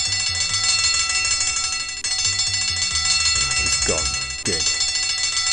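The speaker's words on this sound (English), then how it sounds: "Use the catapult on the bell?" Game bell in Simon the Sorcerer, hit by a slingshot shot, ringing in rapid repeated trills that keep going, loud and sustained, with brief spoken words over it.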